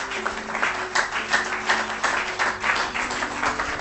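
A church congregation applauds and cheers during a French-language sermon, steady dense clapping throughout with a droning tone underneath, loud and continuous.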